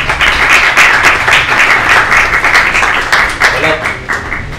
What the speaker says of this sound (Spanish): un aplauso para vos